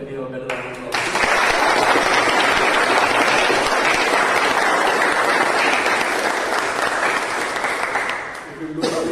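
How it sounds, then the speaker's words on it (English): A full room at a Toastmasters meeting breaks into a loud, steady round of applause that swells after a brief quiet start, holds for several seconds and tapers off at the end. "For all of them, can we have a better round of applause?"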